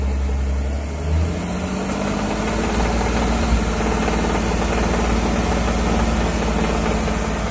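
A BMW car engine idling steadily and then revving a little higher, a continuous loud mechanical hum with a slight rise in pitch early on, heard alone without talk.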